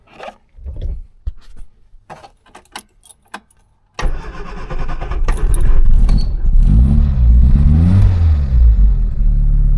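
Austin Allegro Estate car: a few close clicks and key rattles come first, then the engine catches and runs loudly on half choke with an uneven, throbbing idle that swells slightly, and no talk is heard.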